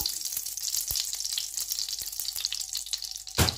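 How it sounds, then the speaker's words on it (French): Oil crackles and sizzles in a frying pan on a stovetop, a dense, close hiss with scattered pops and a sharper burst near the end, no talking. "Je vais ajouter le reste d'huile dans ce poêle-là"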